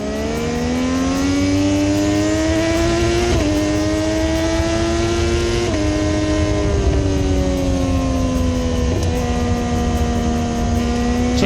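Onboard a Moto2 race motorcycle at full racing speed during the Malaysian Grand Prix, a loud, continuous high-revving engine whine with sharp dips and jumps in pitch at gear changes around three, six and nine seconds.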